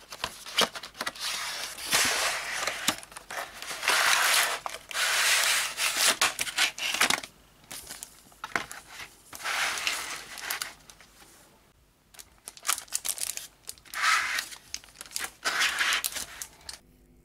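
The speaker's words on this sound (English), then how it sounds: "Now, let's open the box and see what's included." A Microsoft Surface Go Type Cover wireless keyboard is unboxed, with bursts of close crinkling and tearing of packaging and cardboard, irregular rustles separated by brief pauses.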